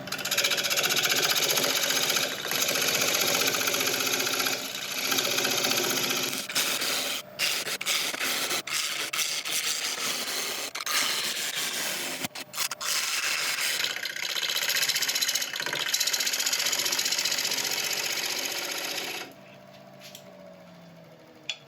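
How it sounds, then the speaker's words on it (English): A 3/8 inch bowl gouge cuts into a spinning burl bowl on a wood lathe turning near 980 RPM, giving a steady rough scraping hiss with occasional knocks and catches, fairly loud throughout before dropping off near the end. "I'm just going to continue with the 3/8 inch bowl gouge, just coming in from the edge"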